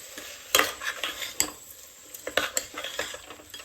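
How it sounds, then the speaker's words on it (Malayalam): Washed rice being stirred into masala in a pot while cooking egg biryani: a series of soft scraping and clinking spoon strokes against the metal pan over a faint sizzle, close and irregular, with no talking. "ഇനി നന്നായിട്ട് ഇത് മിക്സ് ആക്കാം"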